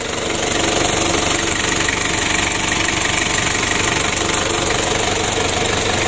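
An overheating car engine runs steadily after long starter cranking, a loud, continuous rough idle with a knocking character filling the whole stretch, no voices.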